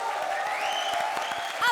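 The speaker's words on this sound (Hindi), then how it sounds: "तो इसी दादी के लिए जोरदार तालियां।" A comedy show studio audience claps, a short burst of brisk applause lasting under two seconds, with a voice over part of it.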